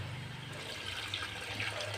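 Water poured into a cooking pot of chicken yakhni pulao after yogurt has been fried down, a steady continuous rush and splash close by with no talking.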